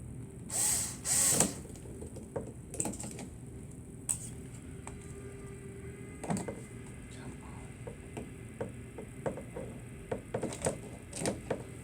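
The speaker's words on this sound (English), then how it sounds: "one pair of pliers that I like is that the bent needle nose set, which is great for getting into spots like this shock screw, this lower shock screw" Bent needle nose pliers working a lower shock screw on a GMade GOM RC crawler kit build, small metallic clicks and scrapes scattered close by, with someone talking throughout.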